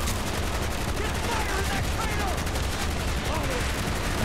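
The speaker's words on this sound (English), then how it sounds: "I can't even tell where I'm getting shot from" Dense, continuous gunfire from a Call of Duty Black Ops battle: overlapping rifle bursts and shots crackle without pause throughout, loud and chaotic, with faint voices mixed underneath.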